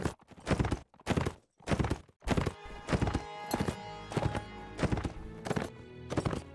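Horse hooves clip-clop in the video game Mount & Blade, a heavier hunter horse moving in irregular bursts of thudding steps, close and clear with a brief whinny; no speech.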